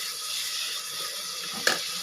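Water pours into a pot of chicken biryani, a faint, steady rushing stream with a brief splash near the end and no talking.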